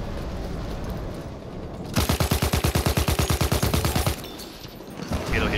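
Rapid automatic weapon fire in the World War I shooter Battlefield 1, a loud burst of evenly spaced shots lasting about two seconds, preceded and followed by quieter in-game ambience.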